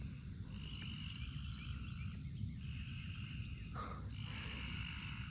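Frogs croak outdoors in a faint, steady chorus, woven with a continuous insect-like trill and an occasional distant chirp, all low and far away.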